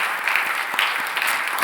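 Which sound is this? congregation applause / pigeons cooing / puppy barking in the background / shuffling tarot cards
congregation applause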